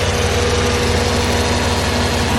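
Turbocharged Buick 3800 V6 swapped into a BMW E46, idling steadily and running rich with a low, continuous rumble and engine vibration, close and loud, with no speech.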